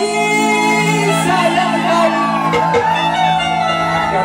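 A performer at a folk music performance lets out a long, loud sustained shout over steady instrumental accompaniment, with crowd noise underneath.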